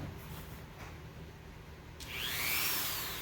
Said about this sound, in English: Same sanding bit on the Dremel. I'm just going to push in with the end of it a little bit.